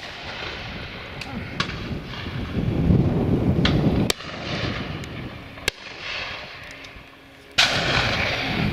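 Shotguns fire at pheasants and partridges during a January driven shoot, with several sharp, loud reports spaced a second or more apart over outdoor wind noise and bustle.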